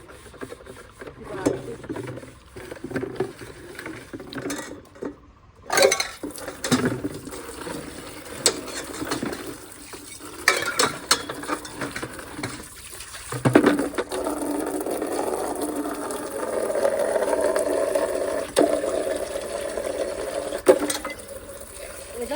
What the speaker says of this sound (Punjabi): ਹੁਣ ਆਪਾਂ ਦੋ ਕੁ ਭਾਂਡੇ ਮਾਂਜ ਲਾਣੇ